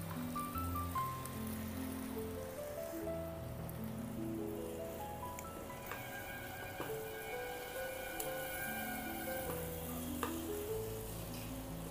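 Tomatoes go into a soya and potato curry frying in a pan, giving a steady sizzle with light stirring clatter under background music, close and continuous throughout.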